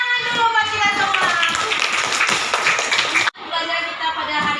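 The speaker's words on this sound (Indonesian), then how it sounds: "Tepuk tangan dulu buat kita semua." A primary school class claps hands together in a brisk, continuous patter while children's voices ring out loudly over it, then stop abruptly before the clapping and chatter resume.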